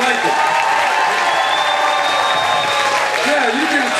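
Rally crowd in the Valley cheering and applauding steadily and loudly, a dense wash of clapping with scattered whoops, a few voices audible within it throughout.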